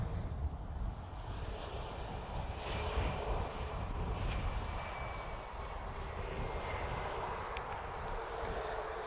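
A Star Alliance airliner departs Lisbon Airport, its jet engines making a steady, distant broadband roar that holds evenly throughout at low level.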